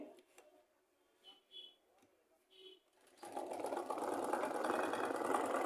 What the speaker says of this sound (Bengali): আমি আপনাদের মেশিনটা চালিয়ে দেখাচ্ছি